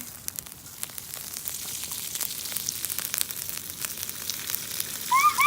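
Water sprinkled over a burning toy train station makes a steady soft hiss and crackle of sizzling, close and continuous, growing a little louder toward the end.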